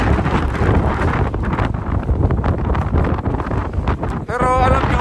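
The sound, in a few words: winter snowstorm wind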